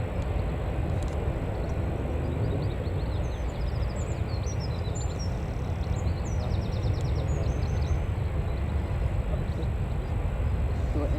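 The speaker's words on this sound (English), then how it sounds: "ATR just taxiing" An ATR turboprop taxiing at Newcastle Airport gives a steady, distant engine drone that sits under constant broadband noise, with birdsong chirping over it throughout.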